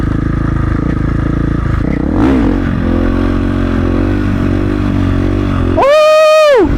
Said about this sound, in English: Second gear wheelie, let's get it.